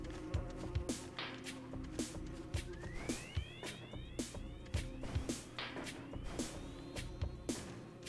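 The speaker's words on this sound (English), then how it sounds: "Bees." Buzzing bees from the Metroid Prime video game hum steadily throughout, with repeated sharp clicks and rising chirpy synthetic tones layered over a busy electronic game soundscape.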